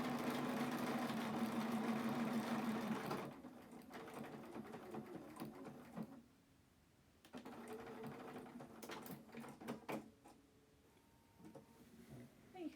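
Sewing machine stitching a small decorative piece, a steady loud mechanical whir for about three seconds, then quieter intermittent clicks and handling sounds with a brief lull.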